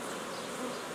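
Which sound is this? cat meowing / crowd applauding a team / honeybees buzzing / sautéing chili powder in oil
honeybees buzzing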